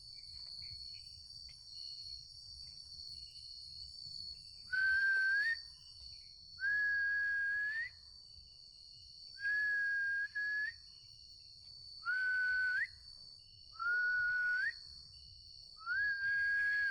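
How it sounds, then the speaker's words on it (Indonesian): Several short human whistled notes, each rising at the end, repeat at intervals over a constant high insect chirring in a quiet night setting at a campsite. "Suara siulan bener. Bukan suara burung ya."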